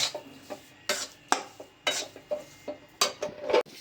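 Bajra flour being stirred with melting jaggery in a pan, a spoon or spatula scraping and knocking against the metal in irregular strokes, close and alone with no talk.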